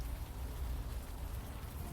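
Steady rain falling in Central Park in the game Unavowed, a soft, even patter and hiss with no breaks, moderately quiet and unaccompanied by voices.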